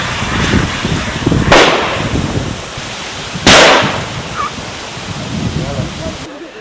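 Firecrackers are set off to drive wild elephants back into the forest from settled areas in Kerala. Two sharp, loud bangs a couple of seconds apart ring out over a rushing, windy background.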